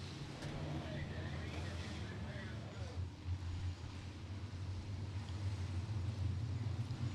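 Sport modified race cars at Beckley Motor Speedway, a dirt oval, rumbling in a steady low engine drone as the pack runs nose to tail through turns three and four, with a race announcer talking over it throughout.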